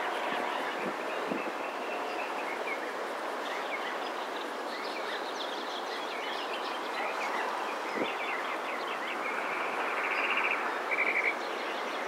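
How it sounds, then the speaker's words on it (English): Birds sing and chirp outdoors at Ulistac Natural Area over a constant airy background hiss, with a few clearer, sharper calls standing out near the end. "the birds Teresa, are loud right now"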